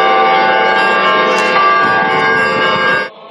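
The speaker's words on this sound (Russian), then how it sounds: "Под благостный звон колоколов верующие встречали ковчег с мощами старца у стен Знаменского собора." Church bells ring outside the Znamensky Cathedral as a relic ark arrives, a loud sustained metallic clang with overlapping tones that hangs and blends for several seconds before cutting off.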